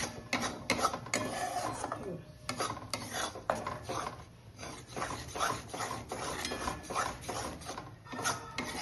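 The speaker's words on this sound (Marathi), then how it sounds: "त्याला सारखं हलवत राहायचं, सतत हलवत राहायचं।" A thick Mysore pak mixture is stirred nonstop in a pan, giving close, irregular scraping and rubbing strokes of a utensil against the metal that go on throughout.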